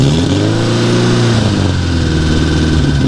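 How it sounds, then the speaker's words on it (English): A Porsche 550 Spyder kit car engine runs loud and close, holding a steady idle with a slight rise and fall in pitch, then settling back without a sharp rev. "Rev it up a little."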